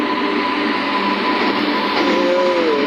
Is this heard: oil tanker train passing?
yes